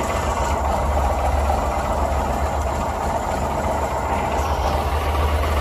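A Daihatsu Ceria engine idles steadily throughout, a continuous low rumble with a faint mid-range hum, close and unbroken, with no talking.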